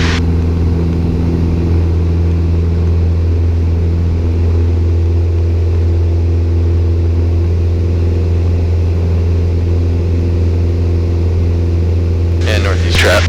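A small training airplane's engine holds a steady, loud drone at full power on the takeoff roll, a constant close rumble with an instructor's voice over it.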